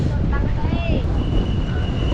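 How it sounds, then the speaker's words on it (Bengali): Strong wind buffets the microphone in a steady, loud roar at an open outdoor spot with many pigeons in Cambodia, with faint bird chirps and a brief whistle-like tone over the rumble. "আর প্রচণ্ড বাতাস"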